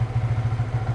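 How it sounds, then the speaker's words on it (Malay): A Yamaha FZ150i motorcycle idles while warming up, its engine thumping in a steady, even pulse close by with no voices over it. "Bagi enjin panas dulu"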